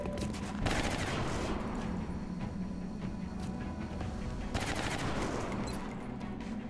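Gunfire in XCOM Long War, rapid bursts of automatic weapon shots in two main volleys, loud and close, with a dense clatter between them and no one talking.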